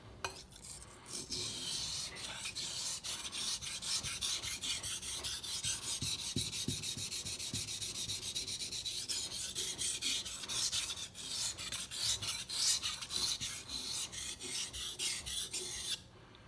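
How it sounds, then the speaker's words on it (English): A knife ground on a wet water stone in quick, even back-and-forth strokes, a dense rhythmic rasp that carries on steadily with no pauses and no voices, close to the ear. "So I will just go ahead and sharpen a little bit more,"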